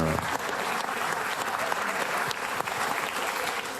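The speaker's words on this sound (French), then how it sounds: "Attends la fin des applaudissements." Sustained audience applause fills a comedy show hall, steady and dense clapping from a crowd throughout, with no voices rising above it.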